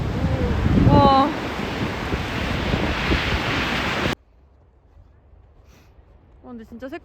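Ocean waves surge and wash along a coast in Iceland under heavy wind rumble, loud at first and then cutting to near quiet, and people talk over the sound.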